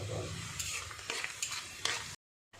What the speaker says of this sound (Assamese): মই পিঁয়াজখিনি মানে ব্ৰাউন কালাৰ হোৱালৈকে ভাজিম